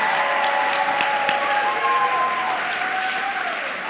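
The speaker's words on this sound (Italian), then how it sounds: "Facciamo un grande applauso." A church congregation at a baptism service in Milan applauds in a continuous, fairly loud wash of clapping, with some sustained tones ringing underneath.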